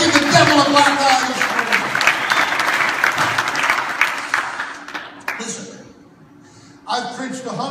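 A church congregation claps for God in a loud, dense burst of applause with voices mixed in. The clapping fades out near the end, then a short burst of sound returns.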